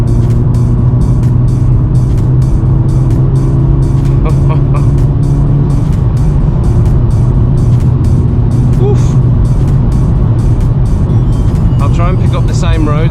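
A VW Mk7.5 Golf GTI with 315 hp is driven hard, its engine and road noise a loud, continuous drone heard from inside, with someone talking over it.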